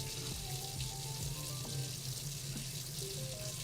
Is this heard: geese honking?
no